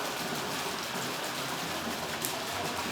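Rain falls steadily in Vashisht, Manali, a dense, even hiss of drops on surfaces that stays constant and fairly loud throughout, with no voices.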